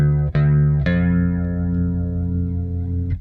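A Fender Custom Shop 1955 Precision Bass played through fuzz and chorus effects sounds two sustained, plucked notes, each ringing out with a thick, wavering tone before a final pick attack near the end.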